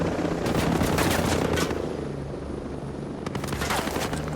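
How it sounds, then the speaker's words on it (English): Helicopters arriving in a tactical stealth shooter, a loud continuous rotor chop pulsing throughout with sharp bursts that sound like gunfire layered on top. "sounds like they sent helicopters"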